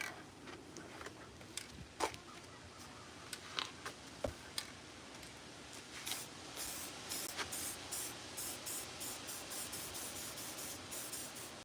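A steady hiss of aerosol spray paint on auto body work runs throughout, with scattered sharp ticks and clicks over it, fairly close and moderately loud.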